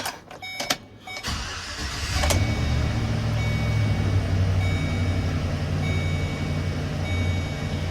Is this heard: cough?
no